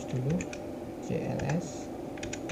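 Rapid keystrokes clatter on a computer keyboard as a command is typed into a Windows command prompt, a steady run of close clicks with a voice murmuring underneath.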